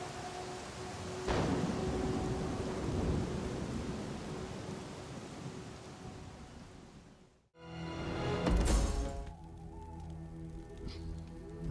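Steady hiss of rain with a low thunder rumble plays in a Rome 2 Total War naval scene, moderately quiet, fading briefly to near silence before a louder, brighter wash of rain and rumble returns.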